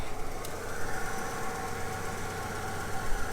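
An engine idling after handfuls of sand were poured through its intake and throttle body, a steady close rumble with a faint, uneven knocking beat.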